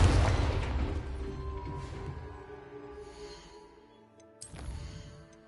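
Confringo explosive spell blast in Hogwarts Legacy: a loud booming burst at the start decays into a ringing, tonal tail, followed by a second sharp crackling hit near the end, fairly faint overall.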